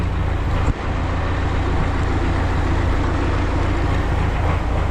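A vehicle's engine drones loudly and steadily as it is put in gear and a wheel spins freely, its differential lock having failed to engage; the rumble is close and continuous, with a brief dip early on.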